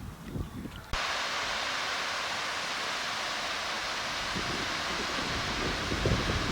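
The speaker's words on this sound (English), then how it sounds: "Waterfall here in Botanical Garden." A waterfall in Lalbagh Botanical Garden, Bangalore, pours with a steady, broad rushing roar that starts abruptly and stays loud and constant, with faint crunches and rustles nearby at the start.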